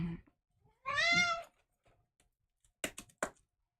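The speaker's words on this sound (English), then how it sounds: "You're a grumpy kitty." A grumpy cat gives one clear, close, drawn-out meow in a quiet room, followed by a few sharp light clicks and taps.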